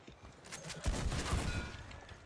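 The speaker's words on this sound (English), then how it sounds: "They're shooting." Gunfire from a video game crackles in a dense burst of overlapping shots, loud and close, with no speech.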